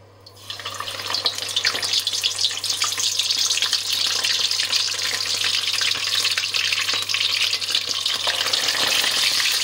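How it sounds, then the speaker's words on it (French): Small shrimp fry in hot oil in a pan with some water in the mix, giving a loud, steady, dense crackle and sizzle that runs unbroken throughout. "comme il y a de l'eau, en fait, hein, dans la petite friture, ça crépite pas mal"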